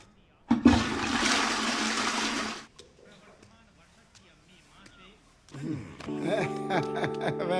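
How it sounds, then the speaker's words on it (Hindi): A household toilet flushes with a loud rushing gush of water that lasts about two seconds and then cuts off, followed by quieter room sounds and a tonal music-like passage at the end. "तो फ्लश करके पानी वेस्ट क्यों करना?"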